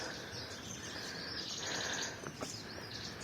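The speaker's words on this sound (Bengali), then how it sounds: "পাখির আওয়াজ।" Several birds chirp and call in a quiet sal forest near Jhargram, faint and somewhat distant, a layered chorus of tweets over soft ambient hiss.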